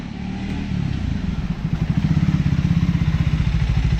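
A Triumph Scrambler 400 X motorcycle approaches, its single-cylinder engine thumping in a steady fast rhythm that grows louder and more even as it pulls in close, with no talk over it.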